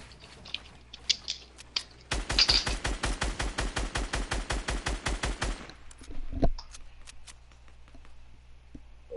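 Rapid automatic gunfire from a video game rings out as a tight, evenly spaced burst of about twenty shots lasting several seconds. Scattered single shots come before and after the burst.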